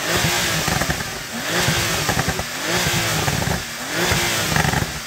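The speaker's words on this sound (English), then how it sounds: "Your exhaust making lots of pops and crackles and stuff, isn't it?" A Porsche 911 GT2 RS revs hard in repeated surges, its exhaust popping and crackling loudly up close between each rise and fall of the engine.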